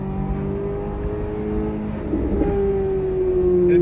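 A C8 Corvette Z06's exhaust swells from a low steady drone into a rising, louder rev while driving, the engine note climbing and strengthening toward the end, heard from inside the car.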